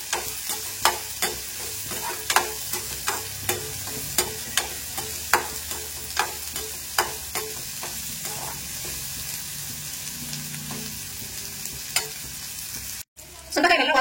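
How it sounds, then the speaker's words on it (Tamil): Turkey berries (sundakkai) are stirred and sautéed in a pan under a continuous sizzle. A spoon scrapes and taps the pan in a regular rhythm about twice a second, loud and close, with no talking. "சுண்டைக்காய் நல்லா வதக்கிடுச்சு."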